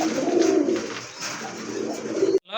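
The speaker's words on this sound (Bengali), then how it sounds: "প্রথমে আপনারা দেখতে পাচ্ছেন এক জোড়া ব্লু বার শাটিন কবুতর" A pair of blue bar satin pigeons coo nearby in low, repeated throaty rolls, several coos in a row, close and clear with no talking.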